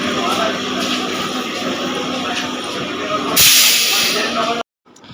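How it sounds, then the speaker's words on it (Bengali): Train pulling into a railway station, a loud continuous rumble and hiss rising to a burst of steam-like noise near the end before cutting off, with a voice talking over it. "দেখো ট্রেন চলে এসছে আমরা এখন কোথায় বলো তো স্টেশনে"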